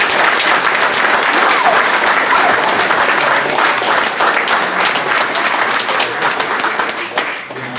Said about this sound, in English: Let's give one more round of applause for everyone.